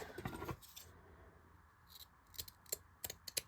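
Scissors trim Dollar Tree decor material, giving a series of crisp, quiet snips, one longer cutting burst at the start and then several sharp separate cuts, close up.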